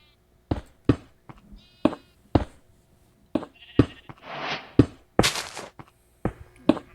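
Sheep bleat repeatedly in a Minecraft-style game, short sharp calls with gaps between, some louder and closer, plus a couple of longer drawn-out bleats.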